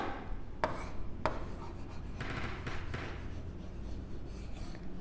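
Pen scratching across paper close by, a few short strokes with two sharp taps, low in level, with no talk.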